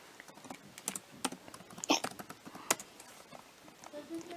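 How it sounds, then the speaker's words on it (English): Fast, hard typing on a new PC keyboard, a scatter of sharp key clicks with uneven rhythm and a few louder strikes, fairly faint with background noise and no speech. "I'm a very hard typer, as I only got this new PC for Christmas."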